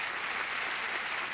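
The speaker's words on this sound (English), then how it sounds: "Applause." Studio audience applause on a 1979 television game show, a steady, dense wash of clapping held at even loudness from start to finish, with no voices rising above it.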